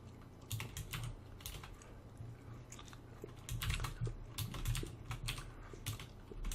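Close, quiet clicking of a computer keyboard, with keys tapped in uneven quick bursts and short pauses between them.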